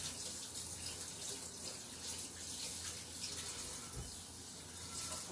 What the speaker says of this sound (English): I'm going to quickly wash my pan so I can reuse it.